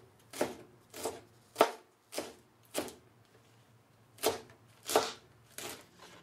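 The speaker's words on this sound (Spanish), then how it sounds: "Lo primero que yo voy a hacer es picar todo el loroco." Loroco flower buds being chopped by hand with a knife for Salvadoran pupusas, about eight distinct cutting strokes in an uneven rhythm, close and crisp against a quiet background.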